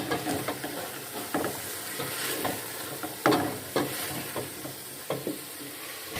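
Fried bitter gourd being stirred into chicken in a pan, with a steady sizzle under repeated scraping and clattering strokes of a spoon against the pan, close and continuous.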